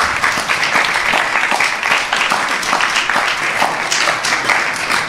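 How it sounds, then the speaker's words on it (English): Sustained audience applause at a temple Sunday feast gathering, dense steady clapping from a crowd holding at an even level throughout. "Give them a big round of applause."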